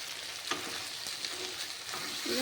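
Banana flower sautés with a little sugar in a pan for a vegetarian dish, a dense continuous sizzle broken by occasional stirring scrapes, with no one talking.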